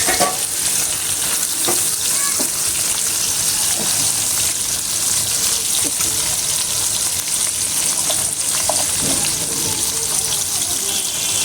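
Fish sizzling steadily in an oily pan during preparation of a Bengali pabda fish curry, a loud continuous frying hiss with stirring scrapes and brief clatter throughout.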